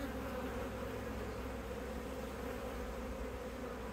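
Honey bees swarming over hive frames during a spring hive inspection, a dense, steady, close buzzing drone that holds evenly throughout with no talking.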